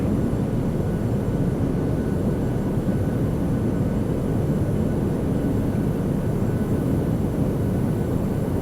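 Simulated jet engines of a PMDG 737-800 roar steadily through a takeoff roll, a loud, unbroken rumbling drone with no voices.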